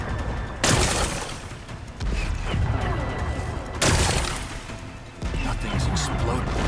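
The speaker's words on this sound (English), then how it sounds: "Gotta blast away some rocks, so I can expose the power cell." Rocks being blasted apart in the video game Horizon Forbidden West, sharp booming impacts with crashing debris that recur against a busy game background.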